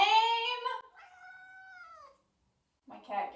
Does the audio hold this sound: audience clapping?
no